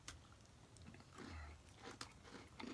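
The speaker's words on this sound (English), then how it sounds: "And you can hear the crunch." Someone bites into a Simple Mills toasted pecan cookie, producing a few faint, close crunches and chewing sounds against a quiet, hissy background.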